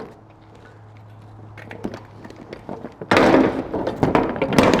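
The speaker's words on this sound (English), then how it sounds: "Making sure that when you close the doors" Lorry doors are shut during a vehicle security check, giving a few soft thunks early on and then a louder burst of banging and rattling in the last two seconds.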